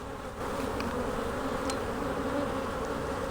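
Honey bees, mostly nurse bees, hum steadily on a brood frame of uncapped larvae in an Apimaye hive, a close, continuous buzzing drone with no talk.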